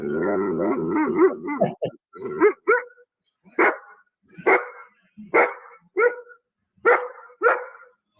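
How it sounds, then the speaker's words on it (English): A dog barks far away, picked up on a security camera recording inside a house: a short run of sharp, evenly spaced barks after a brief stretch of faint whining. "That sounds like a dog that's on that camera."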